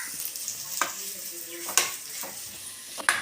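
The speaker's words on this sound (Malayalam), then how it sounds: "ഒരു സവാള ചെറുതായി അരിഞ്ഞതാണ് കനം കുറച്ച് അരിഞ്ഞത് ഒന്ന് അഴറ്റി കൊടുക്കുക" Thinly sliced onion sautés in a pan with cinnamon and spices for a cabbage side dish, giving a steady soft sizzle with a few sharp scrapes of stirring and no talk.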